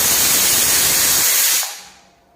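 Steam hisses loudly from a pressure cooker as dried peas boil for Kolkata-style ghugni, a broad rushing jet that holds steady for about a second and a half, then tapers off into quiet.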